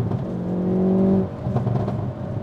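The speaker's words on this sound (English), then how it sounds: "Oh my God, this thing has so much power. Oh, dude. That exhaust." A Toyota GR Corolla or Hyundai i30N hot hatch revs hard, its engine note climbing in a rising drone under acceleration heard from inside the car, then dropping off as the throttle lifts.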